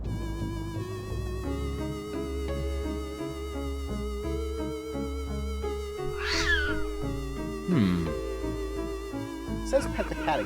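A cat meows in a video game, two or three short, close meows rising over steady, looping game music.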